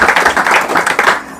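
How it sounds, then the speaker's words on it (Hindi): A church congregation claps hands together in steady, dense applause, loud and close, lasting throughout before tapering off, with no talk over it. "ताली बजाकर प्रभु को महिमा दीजिएगा।"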